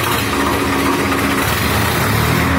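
A 2018 4x4 tractor with a heavy bumper, revved at a tractor market, giving a loud, continuous engine drone with a mechanical rattle that shifts slightly in pitch partway through.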